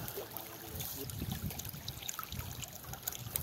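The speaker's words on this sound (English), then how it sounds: "Still have water coming out of the mine like that." Steady trickling and gurgling mine runoff flows nearby near the Susquehanna River, a continuous watery wash with small splashes and no voices.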